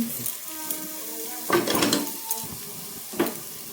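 Vegetables, including beans, chopped onion and green chili, fry in a pan for a winter vegetable soup: a soft, steady sizzle broken by a few louder scraping and clattering bursts as they are stirred.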